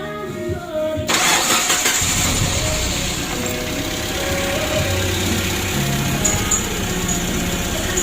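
A Suzuki Carry 1.5 fuel-injected engine, just repaired after running trouble, cranks briefly and catches, then settles into a steady, loud, close-up idle with a faint knock.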